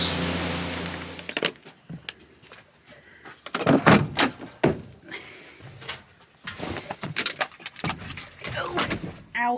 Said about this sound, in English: Shut my leg in the door.